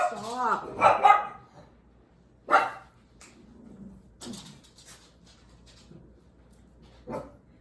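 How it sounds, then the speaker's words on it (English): A dog barks indoors in a condo, several sharp close barks in bursts with quieter gaps between, plus a faint whimper. "We live in a condo, so barking is not good."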